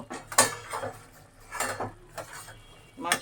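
Beef curry cooked with whole spices gets its pot lid opened and is stirred with a utensil, producing a few scraping, clinking strokes against the metal pot in separate bursts with quiet gaps, no talking.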